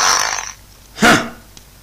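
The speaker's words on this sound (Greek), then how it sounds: "Έλα, κλανιές!" A loud, close fart bursts out alone for about half a second in a comedic Greek parody of Achilles versus Boagrius, preceded by a breathy hiss and followed by quiet.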